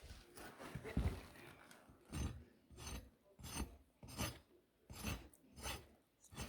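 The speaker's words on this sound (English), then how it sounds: "So rasping." A hoof rasp is drawn across the sole of a horse's hoof in about six steady, rhythmic strokes, each a close, gritty scrape with brief pauses between them.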